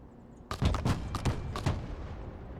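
Artillery fire in the military video game Broken Arrow: a sudden salvo of heavy booming shots in quick succession, about five or six loud blasts with rolling echoes fading into a low rumble.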